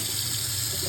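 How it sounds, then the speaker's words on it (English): Tap water runs steadily into a sink fitted with a garbage disposal, a continuous close, hissing stream with no speech. "Maybe I should run a little water."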